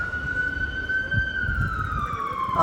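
A wailing ambulance siren holds a steady tone then sweeps downward, moderately distant over low traffic rumble on Gran Vía in Madrid, no voices.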